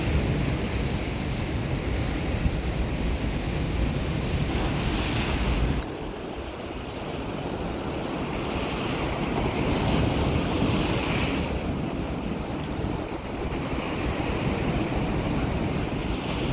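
Strong sea waves crash against the stone breakwater at a river estuary in Kasaragod during rough seas, a continuous roaring surf with surging swells and gusts of wind across the microphone.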